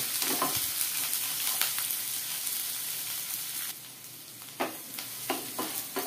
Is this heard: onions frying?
yes